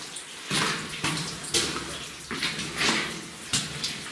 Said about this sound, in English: we got some water running out of the ribs there.